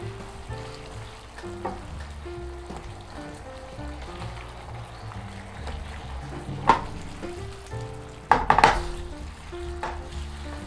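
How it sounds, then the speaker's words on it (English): Pork slices and onions simmering in ginger sauce in a pan, a soft, continuous bubbling sizzle with low background hum, broken by a few scraping and clattering stirring sounds near the end. "flip the pork slices over and over and coat them with the delicious ginger sauce"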